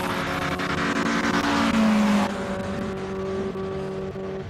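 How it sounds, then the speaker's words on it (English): A classic Alfa Romeo GTA race car climbs a hill-climb course at Simola, its engine loud and close, revving hard before a gear change and then pulling away with a steady, slightly fading drone. "Alpha GTA going up in the hands of Ashley Bowd"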